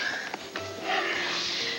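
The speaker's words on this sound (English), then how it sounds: "blow your nose" A person blows their nose in a short burst of breathy, congested nasal noise, close and fairly loud, with a quieter snort just before it.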